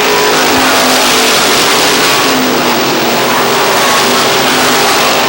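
Stock cars, including a Chevrolet Camaro, race at Lee Speedway in New Hampshire, their engines roaring loud and steady throughout with no break.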